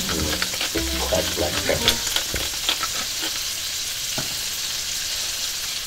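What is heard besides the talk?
butter and seasoning sizzling in a pan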